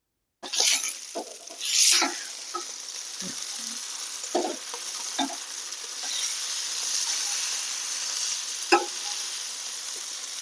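Fish fillet frying in oil in a pan, a steady hiss and sizzle with scattered louder pops and scraping clinks as it is flipped, close and continuous for about ten seconds.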